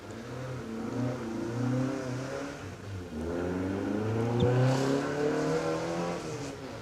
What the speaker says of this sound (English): Chris Hortop's Porsche about to hit the hard bits